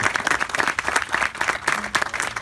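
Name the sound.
audience applause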